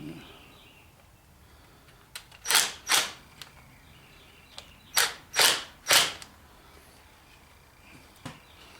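Wrench ratcheting on bolts of a 1984-1994 Chevy steering column, a few sharp bursts of quick clicks in two clusters with faint isolated ticks between them, close and fairly loud over a quiet background.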